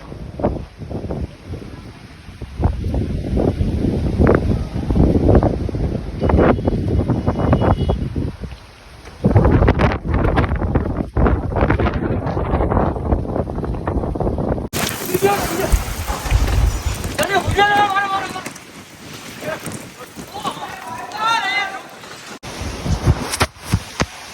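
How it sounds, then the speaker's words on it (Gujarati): Strong wind from a thunderstorm roars and buffets the microphone in loud, gusting waves, with brief voices under the rushing noise. "આમ જોવો તમે ફૂલ પવન એટલો હે ભાઈ, બધું ઉડાડી નાખ્યું ઘડીક વારમાં"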